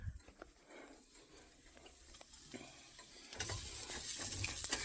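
Diced onions crackle and sizzle in a pan on an electric stove as they turn crispy, a steady hiss with scattered pops that grows louder and fuller toward the end.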